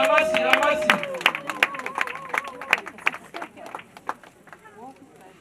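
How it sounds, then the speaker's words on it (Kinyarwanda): Scattered hand clapping from a small group, uneven and fading, mixed with cheerful voices talking and calling out. "Amashyi menshi cyane, amashyi."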